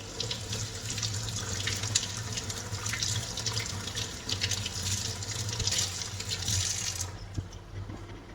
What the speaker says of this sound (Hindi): तो अच्छे से गोभी को धो दिया